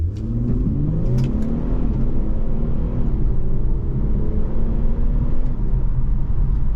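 A 2023 Infiniti Q50 Red Sport 400 AWD pulls away and revs up through the gears, the tone rising steadily under constant road and engine noise from inside the cabin.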